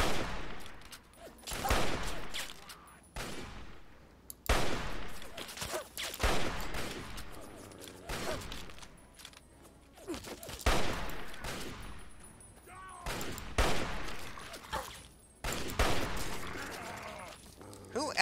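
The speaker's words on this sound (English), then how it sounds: "Who else is shooting at me?" Repeated bursts of gunfire in the video game Fallout 3, loud volleys of shots in clusters separated by brief lulls, with a voice speaking in between.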